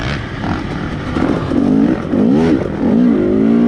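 KTM 250 two-stroke dirt bike lugging in third gear up a gentle single-track trail climb, its engine droning close and steady with rising and falling pitch swells as the throttle opens.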